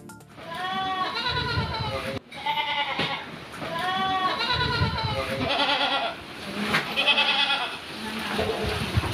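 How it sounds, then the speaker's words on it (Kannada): Newborn two-headed goat kids bleat in repeated loud, wavering cries, several calls in succession close to the microphone, with some voices and background noise between them. "2 ತಲೆ, 4 ಕಣ್ಣು, 2 ಬಾಯಿ ಇರುವಂಥ 2 ವಿಚಿತ್ರ ಮೇಕೆ ಮರಿ ಹುಟ್ಟಿದ್ದು"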